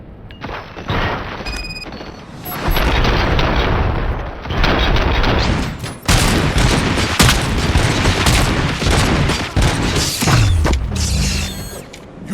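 Gunfire from RoboCop: Rogue City crackles in loud, rapid volleys with sharp repeated shots and mechanical clanks, continuing through most of the stretch before a descending whoosh near the end.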